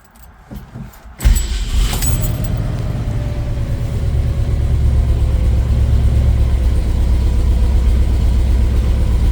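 A 1964 Mercury Comet 404 wagon engine starts up and runs with the choke on, a loud, steady idle that holds close and continuous after a brief jangle of keys at the start.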